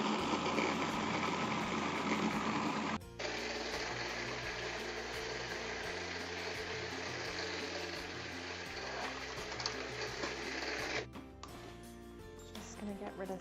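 A blender grinds vegan hummus ingredients with chipotle powder, a steady dense whirring roar that runs for about eleven seconds, shifts in tone partway through, then stops abruptly, close and fairly loud.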